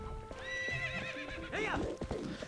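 A horse in the video game Zelda Twilight Princess gives a loud, close whinny with a wavering pitch, set against hoof clip-clops and game sounds.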